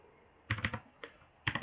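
Short bursts of typing on a computer keyboard entering a Linux apt command on Debian 10, a quick cluster of key clicks, a single tap, then another rapid cluster, close and clear with no talking.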